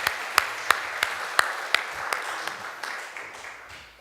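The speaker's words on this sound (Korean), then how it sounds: "우리 다 박수로 환영하겠습니다." A church congregation at a Sunday worship service claps in welcome, a brief burst of applause with several distinct sharp claps early on that thins and fades over a few seconds.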